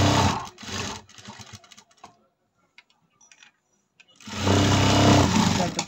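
A sewing machine stitches a blouse seam in two loud whirring runs of rapid needle clatter, separated by a quiet pause filled with small clicks of cloth handling.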